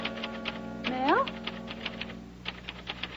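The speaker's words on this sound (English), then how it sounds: "Typing a letter." Typewriter keys clack in a quick, steady run of sharp strikes while typing a letter, with a short voiced sound and faint room tone in between.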